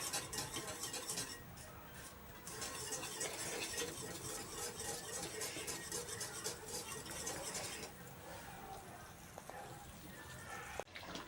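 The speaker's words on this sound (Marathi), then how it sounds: "आता मी भाजी हलवून घ्यायले. अशा पद्धतीने हलवून घ्यायची." Gram-leaf vegetable curry stirred in a boiling pot, with quiet, continuous scraping and clinking of a spoon against the vessel under a soft bubbling hiss, mostly steady with a brief sharper knock near the end.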